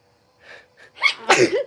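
A single close, loud sneeze, preceded by a couple of quick breathy intakes before the sharp burst.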